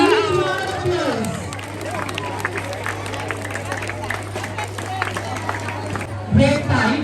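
Audience applause at a school karate show, a sustained crowd clapping and cheering throughout, with an announcer's voice heard over it and a loud burst near the end.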